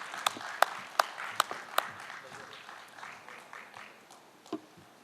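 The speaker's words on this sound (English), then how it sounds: "give him a huge round of applause" An award ceremony audience applauds a business analyst being honored; a few sharp, distinct claps ring out at first, then the clapping thins into a soft, scattered patter that fades, with faint voices underneath.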